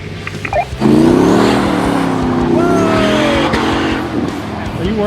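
A V8 muscle car, a budget-built Camaro, roars down a drag strip at a race day, its engine note loud and climbing as it accelerates hard, with voices heard around it.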